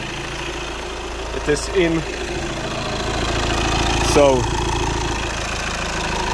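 An Audi A6 C7 engine idles steadily during fuel injector cleaning, a constant low hum with the engine running near the end of its fuel, under a man's brief speech.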